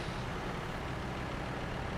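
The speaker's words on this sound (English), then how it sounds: "So now I'll just pull up to" A truck's engine hums steadily at low volume as it pulls up at a mill site in the SnowRunner video game, a constant drone with no talking.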